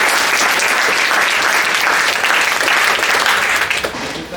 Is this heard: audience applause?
yes